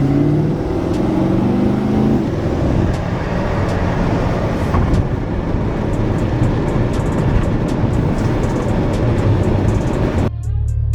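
A classic BMW car drives past on the Stelvio mountain pass, a loud, continuous engine rumble close by that holds for about ten seconds before cutting off abruptly.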